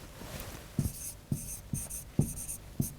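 Pen or marker writing out number possibilities on a board or paper, a series of short scratchy strokes in an irregular rhythm, close and fairly quiet with no talk.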